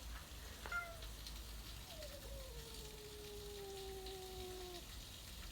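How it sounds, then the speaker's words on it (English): A pet cat lets out a soft meow followed by a long drawn-out meow, faint and set against light background noise. "there's my cat making a noise now"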